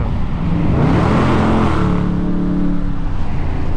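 A Dodge Challenger R/T engine fitted with a Z Taser revs loudly and steadily, its pitch climbing then settling into a sustained roar close by.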